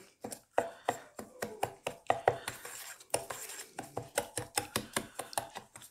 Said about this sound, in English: We'll whisk this together.